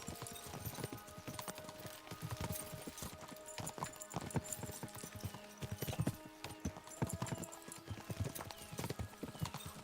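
Horses gallop with steady, overlapping hoof clip-clops on hard ground, moderately close and continuous for about ten seconds, with faint background activity.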